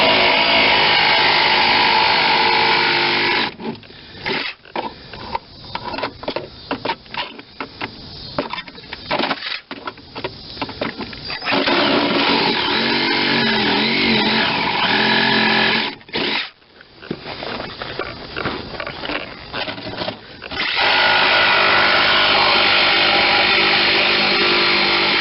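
A saw fitted with a brand-new blade cuts through the steel floor pan of a 1992 Geo Metro convertible, giving a loud, continuous harsh buzz that drops out for short stretches between cuts before starting again.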